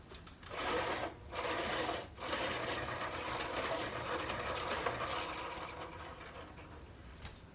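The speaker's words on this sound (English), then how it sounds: "So let me sharpen this because it has no tip to it" A colored pencil is sharpened in a sharpener, giving a close, continuous grinding whir with a couple of short breaks early on, moderately quiet and with no talk.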